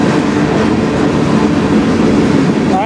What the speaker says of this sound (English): This will probably be a fairly big train